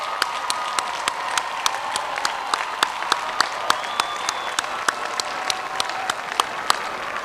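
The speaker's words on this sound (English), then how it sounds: "Give them a round of applause." Crowd applause for parents and family at the Valdosta State University spring commencement, a broad sustained clapping from a large audience in a big hall, with sharp regular accents cutting through the steady wash.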